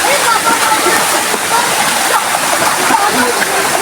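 Water from a stream rushes and splashes loudly and steadily outdoors, a continuous broad hiss with no breaks.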